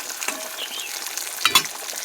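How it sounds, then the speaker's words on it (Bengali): Vegetables sizzle and crackle in a hot pan, with a brief stir and clatter partway through; steady frying noise close by. "মাঝখানে ভাজাগুলো ভেজে নিই"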